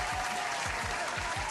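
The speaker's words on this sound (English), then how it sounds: "let's clap that up" A studio audience claps for a while on a morning talk show, a soft continuous wash of hands, faint and even, with low thumps recurring underneath.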